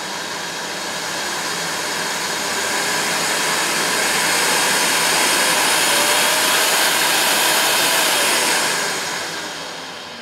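Miele S5 Revolution 5000 cylinder vacuum cleaner running steadily at close range, a continuous loud whooshing roar of suction that holds for several seconds before easing off at the end.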